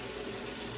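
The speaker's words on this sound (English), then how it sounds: "I'm gonna put some more water on my face first" A bathroom tap runs steadily, its water splashing continuously as someone wets their face before a wet shave, close and alone without any talk.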